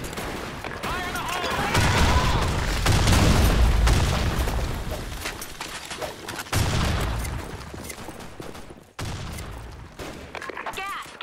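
Loud, continuous bursts of gunfire and booming blasts, including grenade explosions, rattle through a fast-paced BlackShot online shooter match, close and dense with brief pauses and game voice callouts mixed in.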